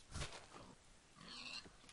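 A pig in the Minecraft video game gives two short, quiet oinking grunts, close and isolated with no talk over them.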